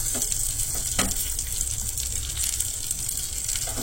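Sabudana kheer with cashews being stirred in a pot, a steady close wet churning and swishing with a few sharper scrapes against the metal, no voices.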